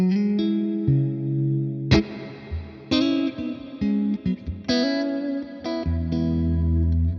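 Electric guitar chords and single notes through a Tone King Imperial amplifier ring out with a long, spacious hall reverb tail between phrases.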